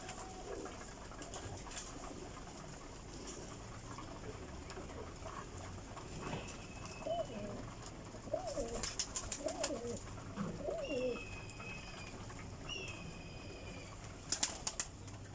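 Pigeons coo softly in short throaty bursts over a steady background hum, with occasional wing flaps and brief chirps.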